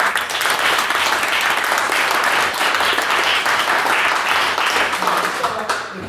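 A debating-society audience claps for a speaker, steady dense applause from many hands, loud and continuous, tapering slightly at the very end.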